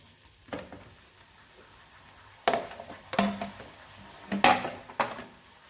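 Ragi puri frying in hot oil gives a steady low sizzle, broken by several sharp clatters and knocks of utensils against the pan.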